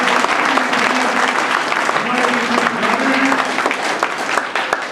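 A gathering at a 2013 shivir welcomes a generous donor with loud, sustained applause, a steady wash of clapping with a voice speaking faintly underneath.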